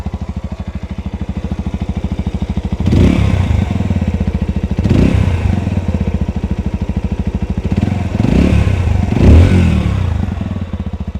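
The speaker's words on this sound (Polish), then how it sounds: "Teraz przygazuję trochę." A Junak Racer 125cc motorcycle engine with its factory exhaust idles with a rapid, steady putter, then revs up in several throttle blips that surge and fall back, loud and close.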